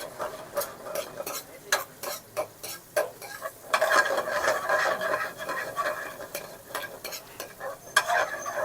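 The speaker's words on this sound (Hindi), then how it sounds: "ऑयल को गर्म करने के बाद हम गार्लिक पेस्ट डालेंगे।" Garlic paste fries in hot oil at a Karachi food stall, with rapid rhythmic metal ladle strikes on the pan over a continuous crackling sizzle, close and fairly loud throughout.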